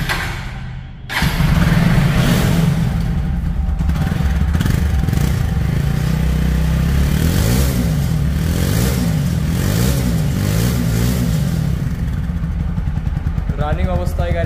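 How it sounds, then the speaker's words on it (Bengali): A 4V ABS X-Connect motorcycle's engine starts and runs steadily at close range, with a smooth rhythmic idle throughout and light revving. "রানিং অবস্থায় গাড়িটির সাউন্ড শুনতে পাচ্ছেন কতটা স্মুথ আছে"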